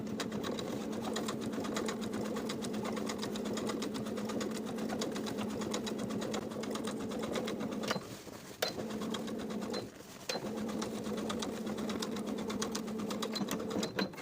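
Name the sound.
sewing machine top stitching jeans seam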